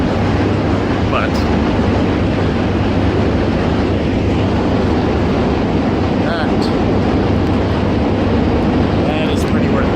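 Constant loud rumble and rattling of a New York City subway car in motion, a dense roar with occasional squeals and clicks, voices faintly mixed in.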